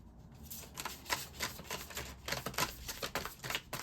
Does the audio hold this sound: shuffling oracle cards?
yes